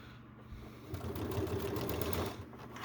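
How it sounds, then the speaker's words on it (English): A sewing machine stitching a bag, giving a steady, fairly quiet mechanical whir that picks up after a moment and runs continuously, heard close with no talk. "I usually sew it from the other direction"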